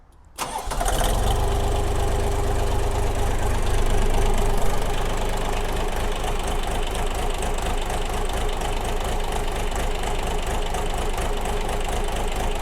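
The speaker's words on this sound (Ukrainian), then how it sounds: "що ви послухали, як працює трьохциліндровий двигун" A three-cylinder diesel engine on a Kentavr 244 Chinese mini tractor cranks and catches, then settles into a loud, steady, slightly knocking idle that runs on without talk.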